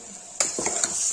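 Turnip with garam masala being stirred in a pan, a steady hiss of frying under a few scraping and clinking strokes of the spoon against the metal.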